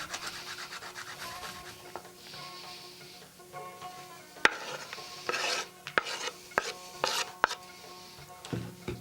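A knife chops garlic into small pieces on a board, giving irregular close taps and scraping rasps. A faint tonal hum runs underneath.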